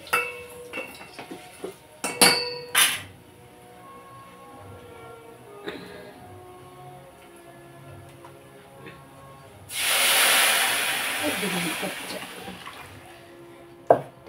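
Utensils clink a few times, then a tempering of spices with asafoetida hits hot oil for moong dal rasam, giving a loud, hissing sizzle that lasts a few seconds before fading, followed by another clank.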